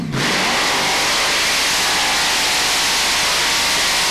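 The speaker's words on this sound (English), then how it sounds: "Peter Larson really screws it on at the start" A pulling tractor's engine revs hard and loud at a 1996 European tractor pulling event in Bernay, France, a dense, roaring, steady blast that sounds close and continues throughout with no voices.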